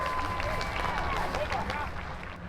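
Scattered crowd applause rises at an outdoor steam and gas show truck pull, mixed with crowd babble and a faint whistle-like tone, then thins toward the end.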